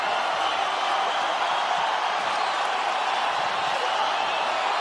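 Arena crowd at a UFC strawweight fight between two 115-pound women, Jędrzejczyk and Namajunas, roaring in a steady, dense wash of cheering that holds throughout.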